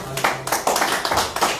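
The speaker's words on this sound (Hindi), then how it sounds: "तालियों से इस्तकबाल किया जाए।" Applause at a BJP joining event welcoming new members in Jammu and Kashmir, a short burst of close, brisk hand clapping from a small group.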